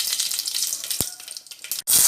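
Mustard seeds sizzling in hot oil in a pan, a steady close crackle with a brief pop near the middle and a louder burst of sizzle at the end.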